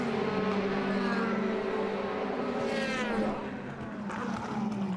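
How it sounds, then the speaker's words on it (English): A DTM touring race car from the 2012 season roars past on the circuit. A loud, sustained engine note sweeps in pitch as the car passes close by, with other engine noise continuing afterward. "There he is in the Playboy car ahead of Martin Tomczyk"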